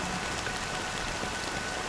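Steady rainfall in Honkai: Star Rail, a dense, even patter of drops on surfaces that holds at constant loudness for the whole stretch, with no voices.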